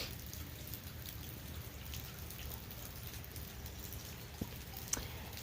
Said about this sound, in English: rain got a little heavy for my liking